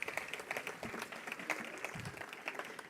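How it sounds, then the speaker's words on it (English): Audience clapping at an award ceremony, quiet and somewhat distant, with irregular individual claps over a soft crowd background for a few seconds. "Round of applause, please"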